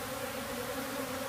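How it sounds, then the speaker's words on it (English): A live honey bee swarm buzzes loudly and continuously at close range as handfuls of bees are shaken into a bucket, a dense steady drone with no voices. "you can actually just take handfuls of bees and shake them right in"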